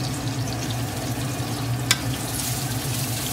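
Garlic cooking gently in oil for Sichuan-style spicy chicken, a soft, even sizzle and crackle that runs steadily throughout, with one brief sharper tick near the middle and no talking.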